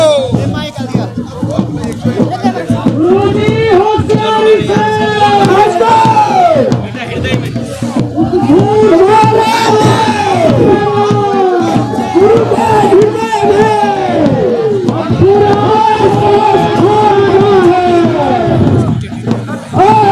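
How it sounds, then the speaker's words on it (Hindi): A large, dense crowd at a village kauthig fair in Badab, Rudraprayag district, with loud continuous babble, shouts and cheers. Overlapping voices and chanting-like calls rise and fall throughout, close and noisy. "भीड़ देखे यार, भीड़ क्या जबरदस्त भीड़ है भाई।"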